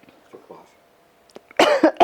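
A woman coughs after biting into a Ghost hot pepper during a tasting, a couple of faint throat sounds first, then a loud burst of harsh coughs near the end.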